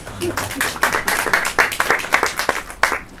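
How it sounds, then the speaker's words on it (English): Festival crowd at an outdoor comedy show claps in a quick, uneven burst, fairly close, with some scattered voices mixed in. "Give yourself a round of applause."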